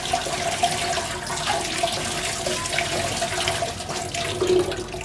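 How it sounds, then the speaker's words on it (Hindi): Onions rinsed under a steadily running kitchen tap, with a continuous hiss of flowing water and light splashing into the sink, close and fairly loud throughout, with no talking. "इनको भी धो के काट लूँगी।"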